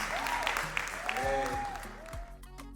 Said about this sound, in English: Big round of applause to Her Excellency.